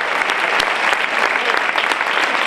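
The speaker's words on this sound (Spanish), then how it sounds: "yo pediría un aplauso" Enthusiastic applause from the audience at a fandango singing contest in Aroche, honoring the guitarist, with dense, steady clapping from many hands and some crisp individual claps standing out, loud and sustained throughout.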